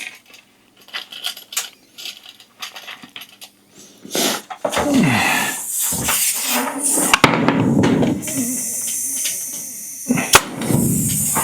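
Nail gun driving nails into art deco style bathroom trim during a DIY install, giving a series of sharp, loud bangs and clacks with handling noise between shots and no talk.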